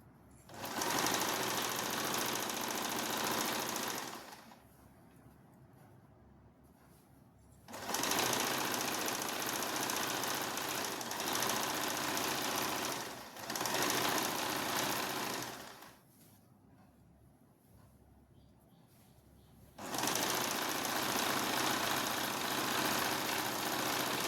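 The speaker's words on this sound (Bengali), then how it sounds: "দেখো সাইডটা আমি দুটোকে নিয়ে আমি সাইডটা সেলাই করছি" Electric sewing machine stitching the side seam of a ruffled round-neck nightie, running in three loud steady bursts with quieter pauses between them, with no talking.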